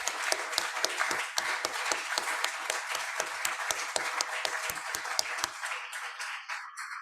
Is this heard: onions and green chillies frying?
no